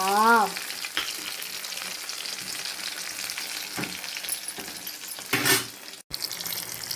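Pomfret fish fries in a pan with masala, a steady close sizzle running throughout, broken by a few sharp clatters and stirring knocks; a brief voice-like tone sounds at the very start.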